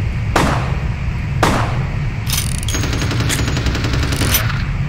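Gunshots in the game Vampire: The Masquerade - Bloodlines: two single sharp shots about a second apart, then a rapid burst of repeated fire, loud and close with no talking.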